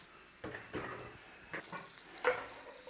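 Butter and a little oil sizzling in a frying pan before pierogi go in, with a steady low crackle broken by a few louder spitting bursts and light stirring clatter nearby.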